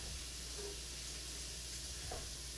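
Onion and garlic frying in a pan in an Italian home kitchen give off a steady, even sizzle and hiss that runs without a break. One faint clink comes near the end, and nobody speaks.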